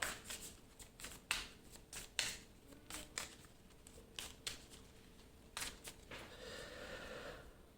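Playing cards in a tabletop card game are handled and laid onto a discard pile, heard as quiet, close clicks and light slaps of card stock with soft rustling between them.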